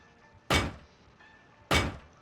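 Doors being placed while building a base in the video game Rust, heard as two solid, heavy thunks about a second apart, each with a short ringing tail.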